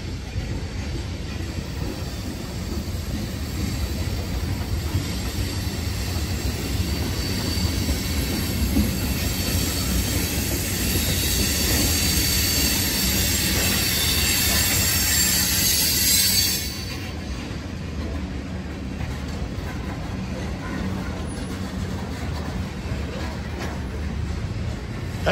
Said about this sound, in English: That train was over 11 minutes long.